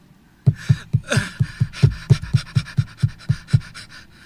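Heavy, rhythmic panting from a man out of breath, a dozen or so sharp close breaths in quick steady succession after a brief quiet start.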